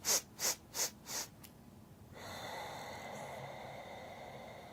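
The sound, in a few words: little sniffs of breath, yoga breathing technique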